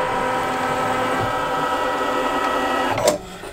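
An embroidery machine sews the final decorative stitch on a quilt block with a steady, rapid mechanical whir and buzz, close and loud, ending in a brief clack as it stops.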